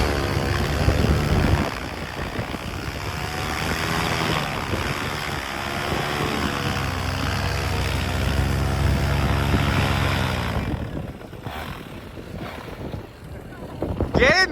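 A STOL light aircraft's propeller engine drones steadily through a zero-foot takeoff and landing at a STOL competition, heard outdoors with wind buffeting the microphone and a few voices nearby.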